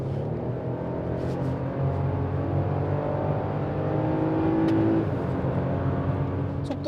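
A Chevrolet Colorado pickup with a 3.6L engine accelerating, heard as a steady, loud engine drone with rising tonal hum and road noise from inside the cab, no talking over it.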